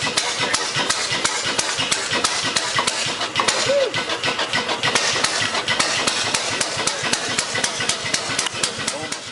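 A two-stroke hot bulb engine starts and then runs steadily, giving a loud rapid rhythmic chugging that continues throughout with someone talking over it.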